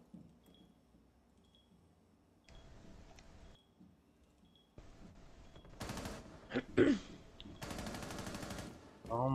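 Rainbow Six Siege gunfire, starting as quiet distant pops and building into loud, close automatic bursts in the second half, with brief talk in between.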